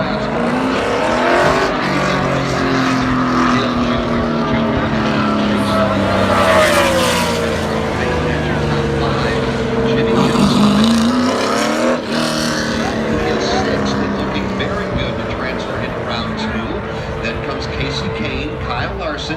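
NASCAR stock cars roar around Talladega during qualifying, a loud engine note rising and falling as cars sweep past with Doppler pitch shifts, one close pass around the middle, heard alongside a public-address commentator.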